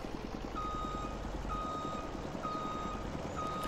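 A truck backing up with a trailer in Farming Simulator 22, its steady engine rumble carrying a loud, regular reversing beep that repeats about once every second, with no talk over it.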